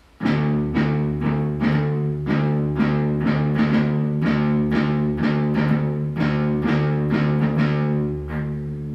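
A distorted electric guitar strums a chord repeatedly in a steady down-up strumming pattern, loud and close, ringing briefly at the end.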